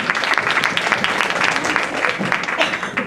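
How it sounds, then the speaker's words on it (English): An audience at an Indian classical music and dance event applauds the dancers, with uneven clapping that rises and falls, moderately loud and with a few voices underneath. "Let's give another round of applause to these talented dancers."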